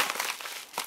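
Brown packing tape on a parcel crinkles and rustles as it is worked at by hand, a few soft, close crackling bursts.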